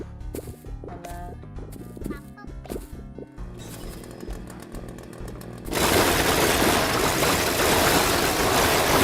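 Chainsaw in a video game roars in as a loud, steady buzzing whine that replaces the earlier music partway through and keeps running to the end.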